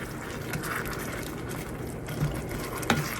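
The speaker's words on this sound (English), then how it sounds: "As you see, it's coming to a boil." A pot of navy bean and ham stew heating toward a boil gives a steady, soft bubbling and watery churn, close by and alone, with a small clunk near the end.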